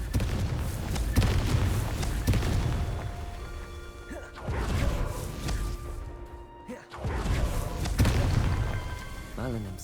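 Booming magical blasts from the Confringo curse in Hogwarts Legacy on Switch, several heavy explosive thuds spaced across the stretch with crackling debris and game effects between them.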